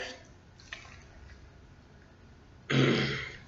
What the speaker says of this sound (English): Sorry, I clear my throat.